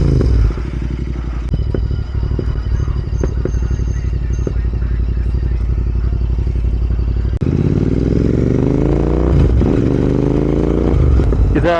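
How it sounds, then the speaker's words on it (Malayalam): Royal Enfield Interceptor 650 fitted with a full-system Red Rooster exhaust, running loud and close with a rough, clattery engine note and rising revs, then a throttle roll-off with irregular popping and crackling. "നമ്മളിങ്ങനെ ത്രോട്ടിൽ റോൾ ഓഫ് ചെയ്ത് കഴിയുമ്പോൾ തന്നെ ഇത് ടപ്പ് ടപ്പ് ടപ്പ് ടപ്പ് തുടങ്ങും"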